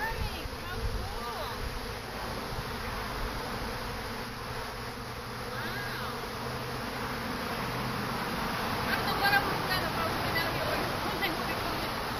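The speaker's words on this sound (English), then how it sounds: "And they're all going in." A honeybee swarm files into a swarm trap, a dense, continuous buzzing hum that stays fairly steady throughout, heard from close by with people talking.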